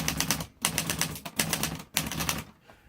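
A 1960s Italian-made Olivetti Underwood Lettera 32 manual typewriter types in rapid, loud, close clacking runs, with short pauses between bursts of keystrokes.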